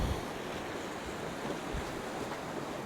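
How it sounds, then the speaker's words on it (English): Steady wind blowing across a beach while shore fishing for plaice, a constant broadband rush with low buffeting gusts and surf wash beneath, close and fairly loud with no voices. "that wind's coming from right to left"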